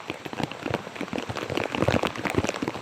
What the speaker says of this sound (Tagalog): ganito kalakas ng ulan